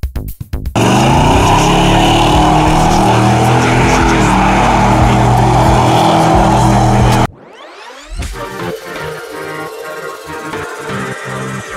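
A car is driven hard at full throttle, roaring loud and close for about seven seconds before an abrupt cut, then a quieter engine sound with rhythmic pulses takes over.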